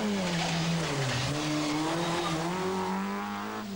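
A Vauxhall Astra GTE rally car drives a stage of the 1988 Manx Rally, its engine loud and close, the pitch dipping and climbing through gear changes, with a hint of tyre noise.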